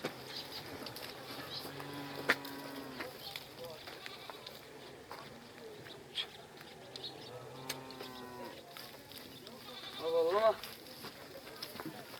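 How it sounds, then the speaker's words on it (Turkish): Sheep bleating outdoors at a Turkmen kopkari gathering: a few drawn-out bleats stand out over a steady murmur of crowd noise and distant voices. "Ha koyun da lan."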